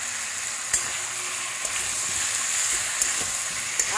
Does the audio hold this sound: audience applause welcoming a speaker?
no